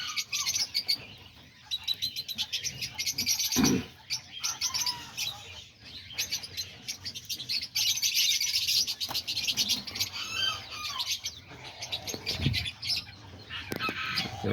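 Diamond doves in an aviary chirp and call repeatedly among other small birds, busy overlapping tweets with occasional wing flutters and a few louder thumps, fairly close with no talking.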